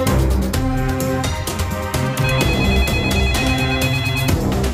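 A synthesized phone ringtone plays a repeating melodic pattern of bright electronic tones, steady and fairly loud, with no voices.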